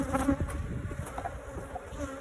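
Honeybees buzz steadily inside a beehive holding honey frames: a faint, continuous drone with soft fluctuations and no voices.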